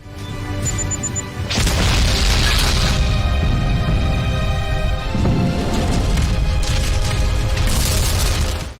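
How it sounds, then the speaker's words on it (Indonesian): A loud booming time bomb blast in the film Resident Evil erupts after a brief mechanical beep, followed by a sustained roaring rumble of debris and a second heavy surge. "Bom waktu yang sebelumnya telah terpasang pun meledak."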